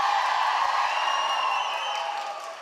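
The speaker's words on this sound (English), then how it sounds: "What a great crowd this is" Cheering from a crowd of over 400 at a Roy Cooper Senate campaign rally in Durham, NC, a steady, dense roar of voices held for a few seconds before easing slightly.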